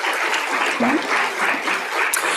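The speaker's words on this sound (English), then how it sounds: "we'd like to give a round of applause to all of those in-person attendees that are here for the first time" Conference audience at an open education plenary applauds first-time in-person attendees, a steady wash of clapping from a crowd in a hall, with a faint voice or two over it.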